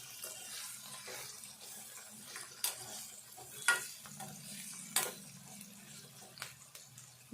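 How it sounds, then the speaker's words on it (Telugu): A Telugu-style tempering of chilies fries quietly in oil, a soft steady sizzle broken by several sharp scraping stirs of a spoon in the pan. "ఇట్లా వేగాలండి ఈ తాలింపు మొత్తము"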